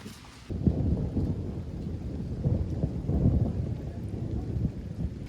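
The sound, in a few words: rain falling outside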